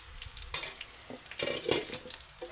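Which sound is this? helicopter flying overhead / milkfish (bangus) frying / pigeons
milkfish (bangus) frying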